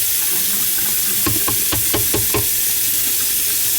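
Hot water pours steadily into a hand sink and flushes down a drain that had been backing up from liquid hand soap, a constant close rushing hiss with a short burst of clunks and taps partway through.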